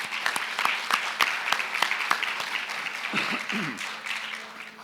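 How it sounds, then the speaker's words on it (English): An audience at a Las Vegas police department's Asian American Pacific Islander Alliance meeting gives a round of applause for cultural performance participants, steady mid-distance clapping with a few sharper claps and faint voices. "So I'd like to give another round of applause to all the participants tonight"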